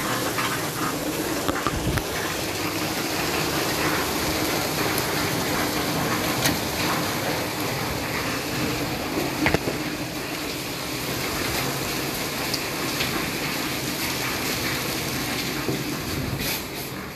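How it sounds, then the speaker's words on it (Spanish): Heavy rain falls steadily in a dense, hissing wash with occasional louder spatters, continuous and close throughout. "Está lloviendo horrible,"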